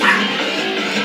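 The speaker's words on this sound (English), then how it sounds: "The dogs are barking." Dogs bark in the video game Galaxy Fighter: a brief, close, whining bark-like cry that lasts about a second.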